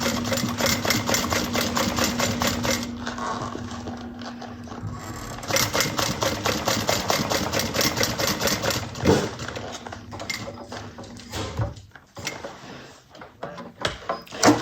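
A sewing machine stitches across the bottom of a fabric bucket bag in rapid mechanical bursts, running steadily, pausing briefly, then starting again, loud and close.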